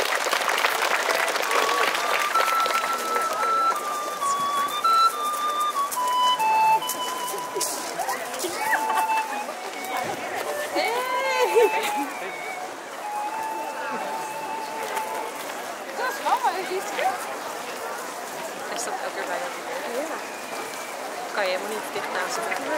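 Applause for a groom during a bridal fashion show at a summer fair, a steady patter of clapping from a crowd that runs throughout, with background music tones and faint voices mixed in.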